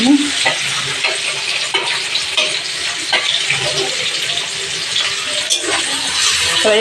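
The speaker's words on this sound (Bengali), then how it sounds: "আমি এদিকে সয়াবিন আলু তরকারি কষিয়ে নিচ্ছি" Ginger and tomato sautéing in a pan for a soybean and potato curry, a steady loud sizzle with scattered stirring scrapes and clinks close by, no talk.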